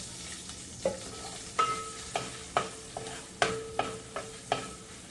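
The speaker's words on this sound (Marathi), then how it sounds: "आणि हा कढीपत्ता थोडासा कढीपत्ता टाकलाय" Curry leaves in hot oil give off a steady sizzle, with repeated sharp metallic taps and scrapes of a spoon against the pan roughly every half second, close and clear.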